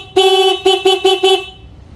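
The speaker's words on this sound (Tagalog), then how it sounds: "Ito yung kanyang loud horn." A loud, brassy aftermarket car horn sounds in one long blast followed by several short, evenly spaced toots, close and piercing.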